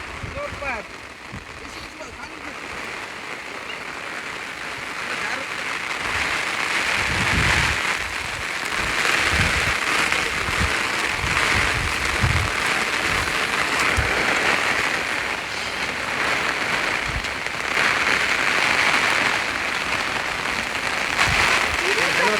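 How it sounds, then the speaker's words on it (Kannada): Heavy wind-driven rain pours outdoors on a hill in fog, a dense continuous roar of falling water that builds and stays loud throughout. "ಈ ಮಳೆ ಒಂದೇ ಸಲ ಗಾಳಿ ಮಳೆ ಬಂದ ಕಾರಣ ಎಲ್ಲನೂ ಚಲ್ಲಾಪಿಲ್ಲಿಯಾಗಿ ಭಾರಿ ಮಳೆ ಬಂದಿದೆ"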